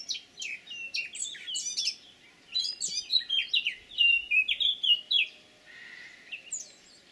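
Blue chaffinch song, a series of bright chirping phrases and trills from a small bird, clear and fairly close, repeated in bursts with short pauses and no other sounds.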